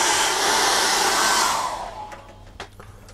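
A hair dryer blowing on paint for a cat's-eye painting, a loud steady rushing whoosh that cuts off after about two seconds, followed by a few faint clicks.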